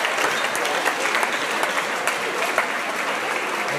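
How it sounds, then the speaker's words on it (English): Enthusiastic applause from an award ceremony audience, a dense wash of clapping that stays steady and loud throughout. "A round of applause for them for being here"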